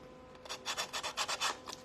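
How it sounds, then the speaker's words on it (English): A quick series of rasping rubs of a sanding sponge on rough edges of zip ties, about nine short strokes in a steady rhythm, close and fairly loud with no talking. "And I use a sanding sponge"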